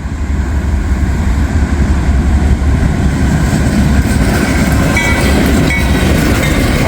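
A CPKC heritage unit locomotive hauling a freight train passes close by, loud continuous rumble with rhythmic wheel clatter and rail noise, a faint horn-like tone, no voices.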